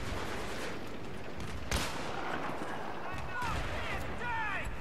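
Battlefield 3 gunfire on the Markaz map during a Rush attack, scattered distant shots and bursts under steady battle noise, with one sharper crack near the middle; a player talks over it.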